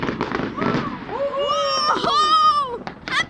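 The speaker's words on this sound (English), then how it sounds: "New Year, and look at this fireworks." New Year fireworks bursting in rapid succession, sharp pops and crackles mixed with whistling rockets, fairly close and loud, with excited voices cheering around them.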